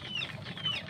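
An old rooster that has lame feet gives a brief, close cluck with a raspy throaty tone. The cluck rises over a low background hum.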